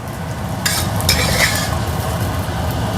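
Eggs are scrambled and stirred in a frying pan, a loud close sizzle broken by a few quick scraping strokes of a utensil against the pan, with no voices.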